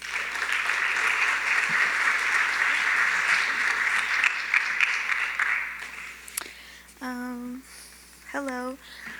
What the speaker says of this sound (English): Let's give them a round of applause for helping protect our ecosystem.